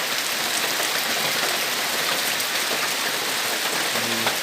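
Heavy rain pours down over a village, a dense, even hiss of drops drumming on surfaces that holds steady throughout, close and loud, with no one speaking.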